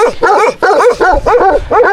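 Dogs bark loudly and close by in a rapid series of sharp, overlapping barks with almost no pause between them, at a campsite in Mongolia.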